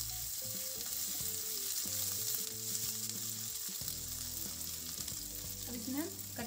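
Asafoetida and grated ginger frying in hot oil with fenugreek seeds, a steady bright sizzle running unbroken throughout, with faint tonal music underneath and a few rising whistle-like sweeps near the end.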